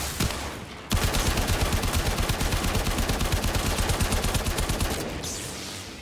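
Rapid automatic gunfire from the video game Warframe, a dense continuous burst of shots lasting several seconds after a brief pause, loud and close, then tapering off near the end.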